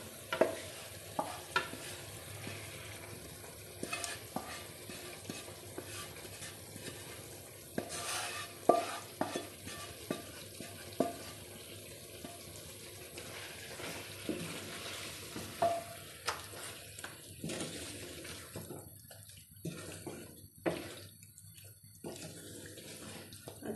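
Chicken is stirred into a capsicum and onion cream masala in a pan, giving soft scraping and wet stirring sounds with a faint sizzle throughout, close and quiet, with no voices.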